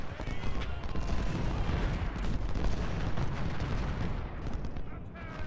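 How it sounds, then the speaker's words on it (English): An artillery volley in the Civil War strategy game Ultimate General, made up of dense overlapping booms and gunfire that rumble on continuously with crowd-like battle noise. "So we'll see what this volley of artillery, which is inevitably coming, does to him."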